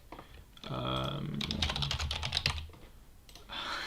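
Someone types on a computer keyboard with a quick, close burst of keystrokes, a short pause, and then a few more taps.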